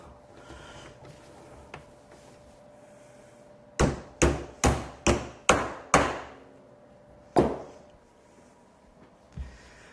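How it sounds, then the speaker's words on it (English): A run of sharp hammer strikes fitting plastic caps onto a toy pumper car's wheel shaft, in a steady rhythm, about six quick blows, then a single later hit and a faint final tap, close and loud. "use a hammer to install one of these black caps"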